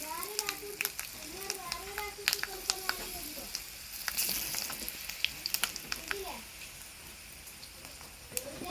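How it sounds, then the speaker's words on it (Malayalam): Mustard seeds, fenugreek and dried chillies sizzle in hot oil with sharp scattered pops and crackles, a soft stirring under it, while someone talks nearby and a voice comes through faintly. "കടുകിട്ടു കടുക് പൊട്ടുമ്പോൾ ഉലുവ ചേർത്ത് കൊടുക്കുക"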